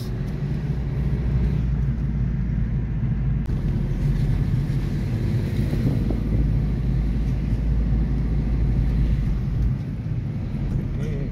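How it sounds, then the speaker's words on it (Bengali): A car driving along a hill road at Ajodhya Hills in Purulia: steady engine drone and road rumble heard from inside the vehicle, continuous and moderately loud with no clear talk. "খাটমাল সিং এখন গাড়ি চালাচ্ছেন।"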